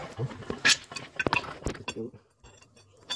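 Metal wrenches clink and clatter against each other during downpipe and catalytic converter work on a Chevrolet Impala, several sharp metallic hits in irregular bursts with a voice talking between them.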